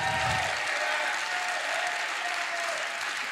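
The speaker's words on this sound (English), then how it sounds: "Clap your hands like you have a plan." Loud, sustained applause from a large crowd, dense steady clapping throughout with no pauses.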